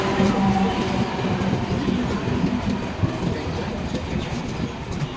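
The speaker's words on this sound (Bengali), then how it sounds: "ট্রেন অলরেডি ঢুকে গেছে দেখতেই পাচ্ছ" A passenger train pulls into a station platform in Murshidabad, a loud continuous rumble with rolling wheel clatter and rail noise filling the whole stretch, with faint crowd chatter mixed in.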